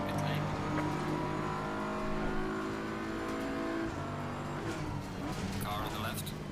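Race car in a racing game such as ACC or Gran Turismo 7 pulling up alongside, its engine a steady droning whine that shifts pitch as it passes, heard close under continuous talk.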